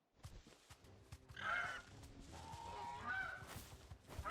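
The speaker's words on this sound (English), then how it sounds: "Sounds almost seagull-like for a second there." Seagull-like bird cry from a creature in Final Fantasy XVI, rising in two or three squawking bursts over game sounds and faint background noise, moderately loud.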